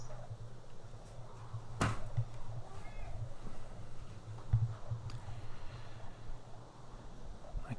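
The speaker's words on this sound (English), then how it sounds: "My cat has just decided to come in and say hello." A house cat gives a short meow, then a second brief meow a few seconds later, faint against a low steady background hum.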